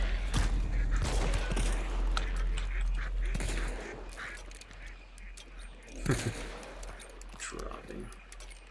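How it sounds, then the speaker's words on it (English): Ducks quacking and honking in a video game, several short bursts scattered over background game sounds and effects, louder early and thinning out later. "Ducks"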